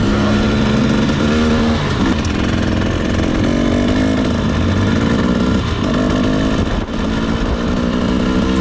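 A dirt bike engine roars loudly and close as the bike climbs a hill, droning steadily with throttle surges and pitch shifts throughout.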